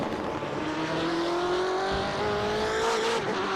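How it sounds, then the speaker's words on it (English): A BMW race car engine in the iRacing sim holds a loud, steady howl with a gradually rising pitch, briefly joined by tire squeal near the end, with no talking. "Those BMWs do sound very good indeed."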